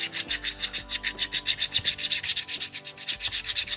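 Close, steady back-and-forth rasping as a sanding pad rubs over the casing of a D-Link AP7700 access point, about six strokes per second, loud and continuous with no talk.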